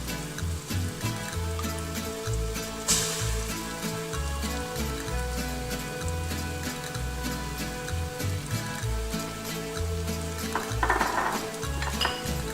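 Spices, bay leaves and kunserva tomato paste sauté in a pot for a Maltese cauliflower stew, a bright sizzle with occasional utensil clinks over a steady, rhythmic low droning background throughout.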